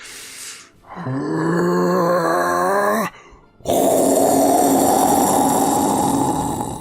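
A human voice imitates a creature's deep, throaty growl, a drawn-out rasping groan held for about two seconds, followed after a brief pause by a longer, rougher breathy roar, loud and close.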